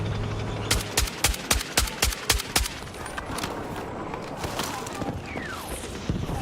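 Rapid semi-automatic DMR rifle fire in Battlefield 6, about a dozen sharp, evenly spaced shots in a quick string, then quieter ambient battle noise with a distant shot or two.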